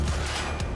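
Sniper gunfire in the video game Quantum Break gives a brief, dense burst of game combat noise, loud and close, with no one talking over it.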